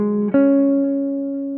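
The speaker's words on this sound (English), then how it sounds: "This arpeggio is of course the major 7 flat 5 arpeggio" A guitar sustains a chord tone, then a fresh note is plucked and rings steadily, part of a major 7 flat 5 arpeggio in D, clean and close with no voices.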